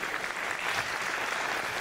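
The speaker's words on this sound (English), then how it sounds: "how about a round of applause for the Polish engineers who build this stuff?" Steady audience applause fills a conference hall after a deep learning developer talk, broad and even for the full two seconds, with no voices rising above the clapping.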